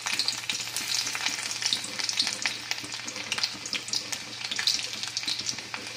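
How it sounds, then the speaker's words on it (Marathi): Garlic sizzling as it fries in hot oil in a pan, a steady crackling hiss with scattered pops, fairly close and moderately quiet, with no talk. "आता आपलं तेल छान गरम झालेलं आहे। त्यात प्रथम आपण लसूण टाकणार आहोत।"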